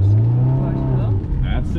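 Honda S2000 engine pulling up under throttle from inside the car, a steady rising drone, with people talking over it.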